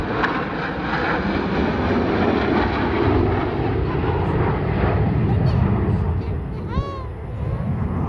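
A Blue Angels jet roars loudly and steadily on takeoff, with a brief whistling sweep near the end.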